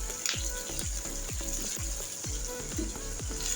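Masala spices fry in oil with a steady close sizzle, while a regular rhythmic swishing repeats roughly every half second throughout.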